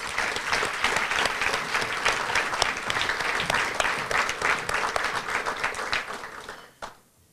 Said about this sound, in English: let's give them a round of applause for November Member of the Month